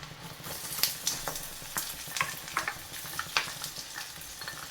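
Crushed ginger and garlic fry in a pan of oil for a spicy quail egg pickle, a close, steady sizzle broken by frequent spatters and stirring scrapes.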